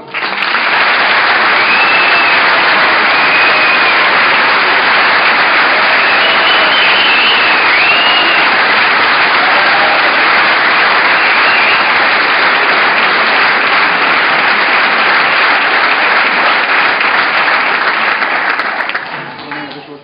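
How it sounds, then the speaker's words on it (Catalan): Sustained, loud audience applause fills a hall during a presentation by the Assemblea Nacional Catalana in Tarragona, steady for about twenty seconds before tapering off at the end. "Un aplaudiment"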